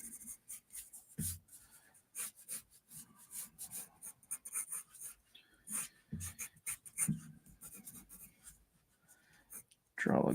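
Pencil scratching and rubbing across paper while sketching Punisher fan art, a steady run of short rasping strokes with brief pauses, close and clear, ending in a louder burst.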